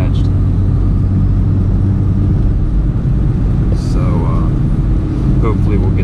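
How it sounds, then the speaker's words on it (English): A Toyota Supra with a detached AMS charge pipe drives through monsoon rain on Bridgestone RE71R tires, giving a steady, loud engine and road rumble with a faint turbo whoosh and whistle rising briefly partway through. "you can kind of hear the turbo a little bit more with the charge pipe being detached"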